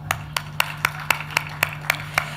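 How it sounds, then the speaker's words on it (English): Slow, evenly spaced claps at a keynote event, about nine sharp strikes over two seconds, moderately near, with a steady low hum beneath and no talking. "Please, a round of applause for Chude Jidonwo."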